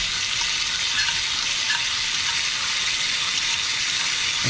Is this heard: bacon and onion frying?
yes